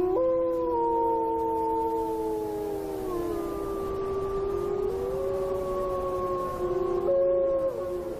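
A young female wolf howls in reply in Yellowstone, several long, wavering tones overlapping and gliding up and down through the whole stretch, fairly close and clear over a low rumbling background.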